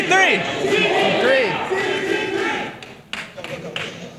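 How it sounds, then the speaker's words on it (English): A large audience at a Classic Tetris World Championship match roars, cheers and chants loudly and continuously, the noise swelling and then thinning into scattered shouts and clapping near the end. "Lots of hype happening in this crowd here."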